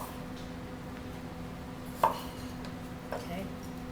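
A knife cuts a pear into strips on a board, one clear chop followed by a fainter one later over low steady room hum.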